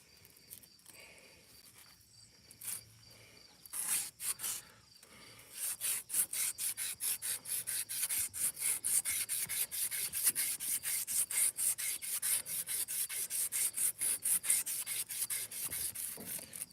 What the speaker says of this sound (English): As you can see, I'm getting the rust off it.